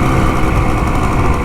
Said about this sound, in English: The engine's very strong.